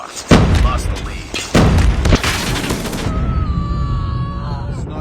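A grenade explodes in Call of Duty Mobile with two loud, heavy booms a second apart, each followed by a rumbling tail. The rumble fades under a faint in-game voice.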